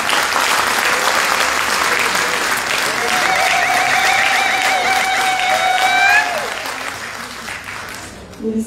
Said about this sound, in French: applaudir très chaleureusement le professeur Catherine.